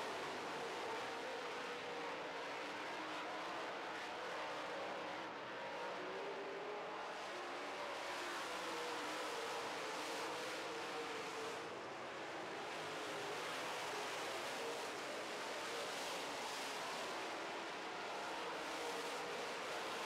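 Late model race cars circle an oval track in a feature race, a steady, dense roar of engines held at a distance for the whole stretch, swelling slightly as the pack passes.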